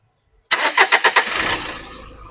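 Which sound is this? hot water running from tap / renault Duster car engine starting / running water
renault Duster car engine starting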